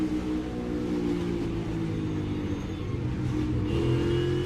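NASCAR Cup stock car V8 engines at Watkins Glen drone on throttle as a sustained, loud mid-pitched roar with steady harmonic tone, pitch shifting slightly as the cars run together on the road course.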